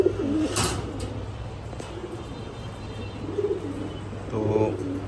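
Pigeons, a red-geared pair with clear eyes and large feathered feet, cooing softly in a loft in short low bursts over a steady hum, with a brief sharp noise near the start.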